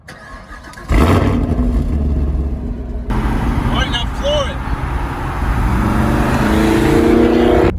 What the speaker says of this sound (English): We're about to ask Joe some questions and see how he likes the Camaro, how much of a difference it is compared to his 435.